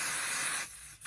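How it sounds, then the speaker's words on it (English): Spray adhesive hissing onto fabric for a sweater in a sewing project, a close, steady aerosol spray that cuts off briefly near the end before resuming. "I'm just going to use a stick and spray once again"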